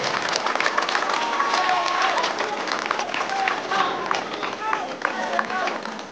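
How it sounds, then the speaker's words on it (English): A crowd at a school cross country race at Don Bosco Higher Secondary School, Kohima, applauds the students in a steady, dense wash of clapping mixed with cheering and chatter that lasts throughout. "Let us therefore give the loudest round of applause for each one of you."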